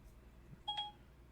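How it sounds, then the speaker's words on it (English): A phone going off during a live stream, a short electronic beep-like tone pair heard once, brief and fairly faint over a quiet room background. "My phone went off."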